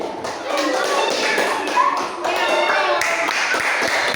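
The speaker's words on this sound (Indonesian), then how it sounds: "tepuk tangan untuk kelompok kucing" A Grade 5 elementary classroom bursts into applause for a student group, with many small hands clapping quickly and unevenly, loud and close, while children's voices mix in.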